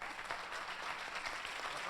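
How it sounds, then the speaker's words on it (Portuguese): An audience at a Brazilian conference panel applauds the speakers, a short, faint burst of dense clapping from a seated crowd in a hall. "agora um aplauso para a mesa"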